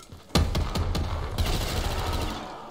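A string of sharp, loud bangs and crackles from fireworks in a Black Ops 3 custom zombies map, several distinct pops followed by a dense rattling crackle that slowly fades.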